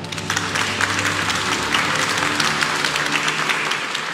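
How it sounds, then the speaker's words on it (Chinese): Attendees at a presidential reception for the Tokyo 2020 Paralympic delegation applaud together. The clapping is steady and full-bodied across the room and does not let up. "一起给自己一个掌声"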